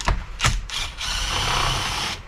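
A hand ratchet works on the rear muffler bolt of a Farmertec MS660 chainsaw kit, giving a few quick close clicking turns followed by a sustained grinding, buzzing rasp.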